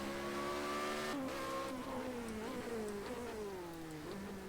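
A Formula Renault race car in Project Cars 2 revs hard under throttle out of a left-hander. The engine note climbs, drops at quick gear changes and climbs again, loud and close with no voices.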